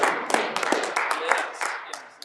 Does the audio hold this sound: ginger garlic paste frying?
no